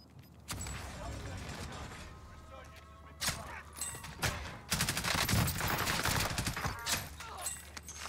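Warzone gunfire on Rebirth Island: several loud bursts of automatic shots and single cracks come in clusters, with a quieter stretch between them.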